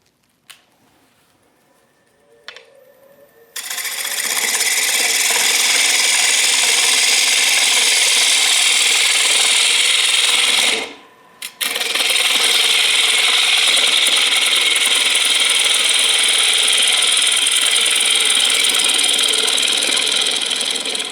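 Carbide roughing tool hollows the inside of a wooden bowl on a lathe, making a loud, continuous hissing scrape that briefly cuts out midway and then resumes, with the motor humming underneath.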